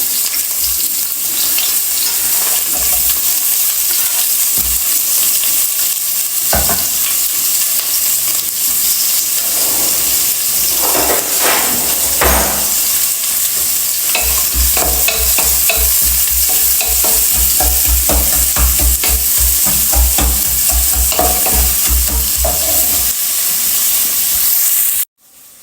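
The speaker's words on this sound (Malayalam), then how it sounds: "എണ്ണ ചൂടായിട്ട് വരുമ്പം ഉള്ളി ഇട്ട് കൊടുക്കാം. ഉള്ളി നല്ലോണം പിന്നെ വഴറ്റിയെടുക്കണം" Onions sizzle and fry in hot coconut oil in a pan, a steady close crackle with occasional stirring scrapes, running continuously to the end with no talk.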